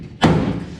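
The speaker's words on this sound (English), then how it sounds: "I'm gonna adjust that door." A single heavy thud as the door of a 1953 Ford F100 pickup truck slams shut, one sharp loud impact followed by a short metallic ringing decay.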